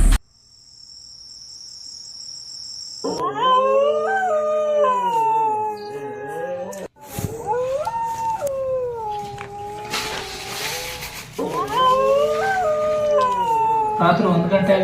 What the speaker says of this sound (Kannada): ರಾತ್ರಿ 1 ಗಂಟೆ ಆಗಿದೆ. ನಾಯಿಗಳು ತುಂಬಾನೇ ಬೊಗಳ್ತಾ ಇದಾವೆ.